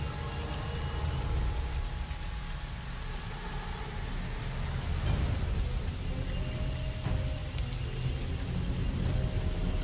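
Heavy rain pours steadily in a dark forest setting, a dense continuous hiss of drops with a faint roll of thunder partway through, loud and unbroken with no voices.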